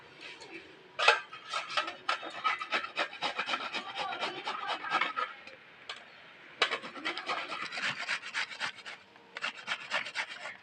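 A whole bottle gourd is scrubbed clean after washing in water, giving close, scratchy rubbing strokes in dense bursts, with a brief pause before the scrubbing resumes.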